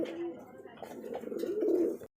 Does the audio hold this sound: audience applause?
no